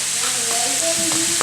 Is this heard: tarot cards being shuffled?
no